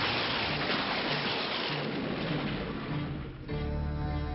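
Heavy rain pours steadily with rumbling thunder in a horror movie scene, a dense wash of noise that briefly dips before a low rolling boom and tonal music swell at the end.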